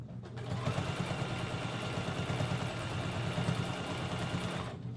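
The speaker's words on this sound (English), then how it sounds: "I'm just gonna sew right through it" A sewing machine stitching steadily through a thick quilt, a close, even mechanical hum and rapid needle chatter running continuously for several seconds without talk.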